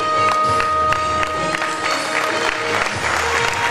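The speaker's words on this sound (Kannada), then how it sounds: "ಇನ್ನೊಂಚೂರು ಜೋರಾದ ಚಪ್ಪಾಳೆ ಮುಖೇನ ಅವರನ್ನು ನಾವು ಗೌರವಿಸಬೇಕು." An audience at a UPSC workshop claps steadily and loudly throughout, a dense sustained round of applause with no pause.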